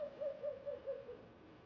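An owl, a fish-eating species, gives a run of about five soft, evenly spaced hoots, faint and alone in the night.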